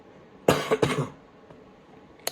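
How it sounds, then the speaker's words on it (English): A person coughs twice in quick succession, close and harsh, followed by quiet. "I can't get rid of this cough."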